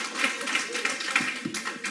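A church congregation applauds the Lord during a Spanish-English service, a steady patter of many hands clapping at moderate distance, with faint voices and thumps beneath.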